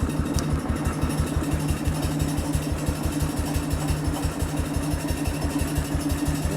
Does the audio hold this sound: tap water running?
no